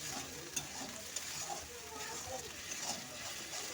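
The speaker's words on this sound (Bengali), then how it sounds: "পেঁয়াজটাকে একটু ভালো করে কষিয়ে নিতে হবে" Onion paste frying in a pan for a Bengali doi katla curry, a steady soft sizzle with occasional stirring scrapes running throughout at moderate, even loudness.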